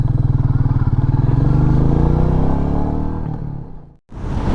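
Royal Enfield Meteor 350 motorcycle cruising on the Appalachian Highway, a loud, steady single-cylinder thump with wind rush that eases off, drops out briefly near the end, then resumes.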